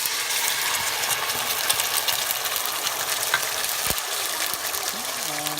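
A ginger, garlic and onion paste hits two tablespoons of hot olive oil with a loud, continuous broadband sizzle up close that holds steady throughout, with a brief thump near the end.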